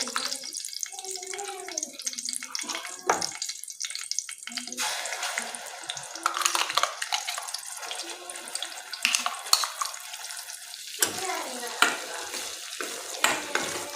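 Ground masala paste sputters and crackles in oil on low heat for stuffed eggplant, with intermittent stirring scrapes and bursts of sizzle over quieter stretches and some faint background voice.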